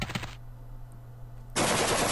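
Rifle gunfire in the Henry Stickmin game Breaking the Bank, a short loud burst of rapid shots at the start, then a quiet lull before another loud, dense blast of fire.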